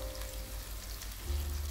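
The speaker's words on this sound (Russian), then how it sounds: "отправляем на разогретую сковородку с растительным маслом" Egg-dipped eggplant slices fry in heated refined vegetable oil in a pan, giving a steady, soft crackling sizzle at close range with no voices.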